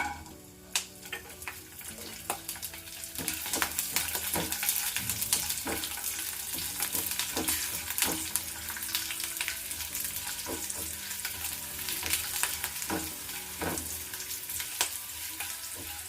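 Peeled garlic cloves fry with urad dal in hot oil in a pan, a steady crackling sizzle broken by repeated sharp scraping stirs from a utensil throughout.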